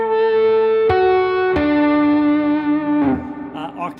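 A distorted electric guitar plays harmonics on individual notes an octave up. Loud, bright sustained tones step through a few single notes, each ringing out, with a slight bend before fading near the end.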